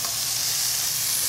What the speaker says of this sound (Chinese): 这边呢也让它煎成金黄色哈。